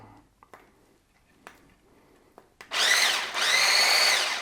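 A powerful electric whisk mixing half milk and half cream starts with a few faint clicks and taps, then whirs loudly in two close bursts with a brief dip between them.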